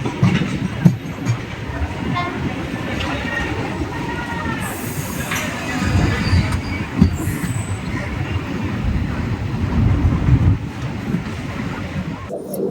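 The West Coast Express passenger train, running between Coimbatore and Chennai in India, rumbles and clatters along the rails for the whole stretch, with a couple of brief high squeals, while a voice talks faintly now and then.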